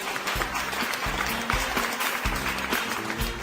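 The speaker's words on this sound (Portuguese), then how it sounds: "Uma salva de palmas especial pra ela também" Sustained applause from a group of people, steady clapping that fills the whole clip without talk.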